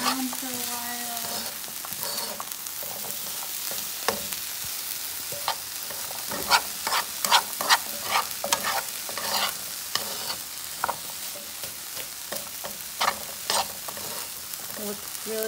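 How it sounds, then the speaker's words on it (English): Vegetables cook in a pan with a spicy taco mix, sizzling steadily under loud, repeated stirring and scraping knocks from a utensil. The sound is close and continuous, with no talking. "So now I'm just going to turn it down on low and let it cook down for a couple more minutes."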